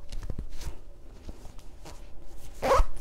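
Near the end comes a short close zip as the added panel of a hands-free pumping bra is drawn down, after a stretch of soft fabric handling and light taps.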